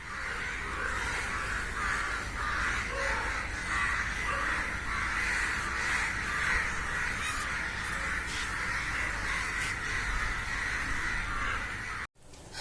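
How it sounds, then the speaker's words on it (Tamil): A flock of crows caws steadily through a morning sky, many harsh overlapping calls going on and on at a moderate distance, then breaking off abruptly near the end. "இந்த மாதிரி நிறைய காக்கா பறந்துட்டு பார்க்கவே அழகாக இருந்தது."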